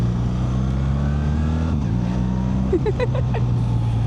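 A new 2025 BMW R 1300 GSA adventure motorcycle engine idling and running at low revs, a loud steady close rumble with a brief dip in pitch midway.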